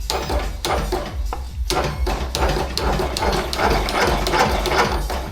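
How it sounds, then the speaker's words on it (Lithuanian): The starter of a Husqvarna TS 138 lawn tractor cranks the engine in a steady, rapid series of loud mechanical pulses and whirring clatter, close by and continuing without pause. "Kaip ir starterį suka, pabandom boosterį užmest."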